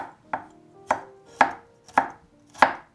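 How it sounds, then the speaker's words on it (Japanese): A knife chops dandelion leaves and slices washed root on a cutting board, five crisp, evenly spaced strokes ringing out alone and close. "サラダには葉の部分はざく切りにし、根っこは生産者の方に教えていただいた通り、よく洗って薄切りにします"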